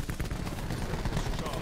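The KN57 gun in a shooter video game fires in dense, continuous bursts, a rough, crackling barrage that fills the whole moment at moderate loudness.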